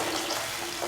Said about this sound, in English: Pour in 400 ml of warm water.